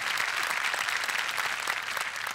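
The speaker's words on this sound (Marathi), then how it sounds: "सुव्रत जोशीसाठी जोरदार टाळ्या." Audience applause for an actor welcomed onto a comedy show stage, a dense, even burst of many hands clapping at once, loud and sustained with no speech over it.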